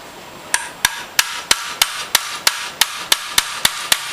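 Hammer striking a punch to drive out a pin on a Mosin Nagant 91/30 rifle: about a dozen sharp metallic taps at an even, steady pace, close and alone.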